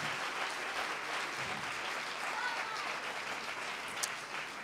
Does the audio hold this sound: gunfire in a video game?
no